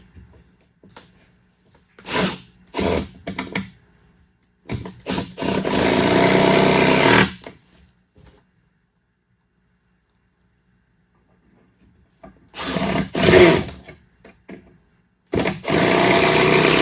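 A power drill drives screws into pocket holes in wood for an activity table, several short whirring bursts and a couple of longer runs close by, separated by quiet gaps.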